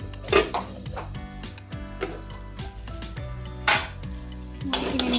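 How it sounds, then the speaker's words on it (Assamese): A spoon scrapes and clinks through ridge-gourd bakli chutney in a pan, with a soft sizzle underneath and a few sharper metallic knocks against the pan. "লৰাই দিছোঁ"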